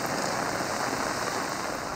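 Steady monsoon rain pours down in Karachi, a dense, even hiss that stays loud and constant throughout without any voices.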